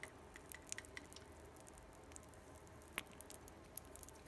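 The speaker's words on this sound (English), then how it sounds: "So I'm hearing some fizzing." A soil sample fizzing in water gives off a faint, sparse crackle of tiny pops and drip-like ticks scattered over a quiet background, with one slightly sharper snap partway through.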